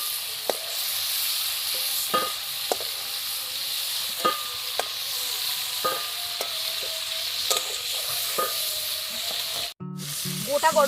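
Shrimp fry lightly in hot oil with a steady, gentle sizzle, broken by scattered clicks and scrapes of stirring, and a brief clatter near the end.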